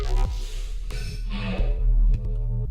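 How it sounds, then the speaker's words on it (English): Hollow-toned synth bass patch, an Eternum-style bass voiced in a Phase Plant generator, sounding as a sustained, harmonically rich tone with a few sharp hits and swelling brightness, close and loud with no talking. "when we turn on the generator,"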